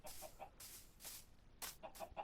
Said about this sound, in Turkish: burada tavuk var